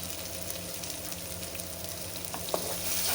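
Boti masala with MTR garam masala roasting in a pan over low flame, a steady soft sizzle with faint stirring scrapes and a small click near the end, no voices.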